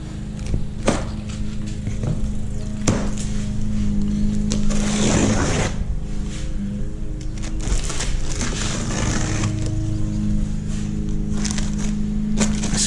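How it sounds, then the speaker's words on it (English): A neighbor's lawn mower cutting grass, a steady low engine drone running throughout at moderate distance, mixed with nearby handling clatter and rustling. "Excuse the noise, my neighbor decided to cut his yard right now."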